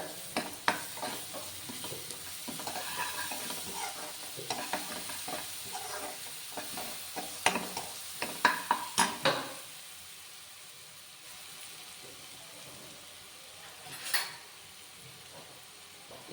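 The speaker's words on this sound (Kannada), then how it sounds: "ಸ್ವಲ್ಪ ಒಂದು ಸ್ಪೂನ್ ಅಷ್ಟು ಶುಂಠಿ ಬೆಳ್ಳುಳ್ಳಿ ಪೇಸ್ಟ್ ಹಾಕ್ಕೊತಾ ಇದ್ದೀನಿ ಇದನ್ನು ನೀಟಾಗಿ ಫ್ರೈ ಮಾಡ್ಕೊಳ್ಳೋಣ" Ginger garlic paste fries in a pan for street-style pav bhaji, a soft continuous sizzle with faint stirring scrapes and light clinks, quieter toward the end.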